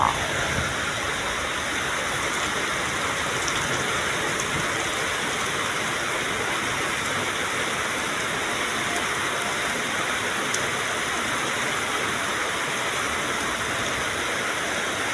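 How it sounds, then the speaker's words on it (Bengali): Heavy, sudden midday rain pours down over Dhaka city, a dense, steady roar of rainfall that holds at an even, loud level from start to finish with no voices. "প্রচুর পরিমাণে বৃষ্টি হঠাৎ করে নেমে এসেছে আকাশ থেকে"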